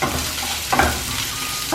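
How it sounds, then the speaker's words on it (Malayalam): Sliced onions with salt sautéing on medium flame in a pan for Thattukada-style beef curry, a continuous close sizzle with one brief scrape of stirring midway, and no voices. "മീഡിയം ഫ്ലെയിമിലാക്കിയിട്ട് ഇടയ്ക്കിടയ്ക്ക് ഇളക്കി നന്നായിട്ടൊന്ന് വഴറ്റിയെടുക്കണം."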